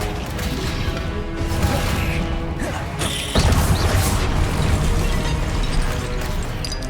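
Spell blasts crash and boom in the Hogwarts Legacy video game, a dense run of loud impacts and bursts with a sharp new hit partway through.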